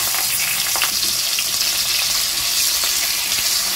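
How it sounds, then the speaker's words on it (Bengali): Small pieces of brinjal sizzle steadily in hot white oil with turmeric and salt, a loud, continuous crackling hiss with no voices. "এবারে আমি ছোট ছোট টুকরো করে কেটে রাখা বেগুনের টুকরোগুলো দিয়ে দিচ্ছি।"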